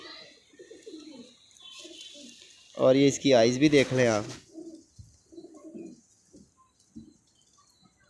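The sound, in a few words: pigeons cooing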